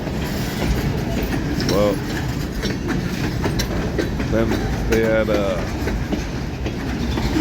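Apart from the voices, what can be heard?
long freight train rolling past, ELS 503 and 400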